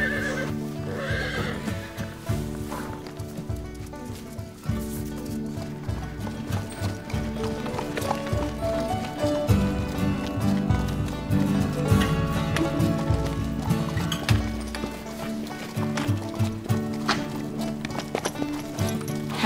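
A horse neighs and its hooves clip-clop in a stable setting, heard under a steady bed of music that runs throughout.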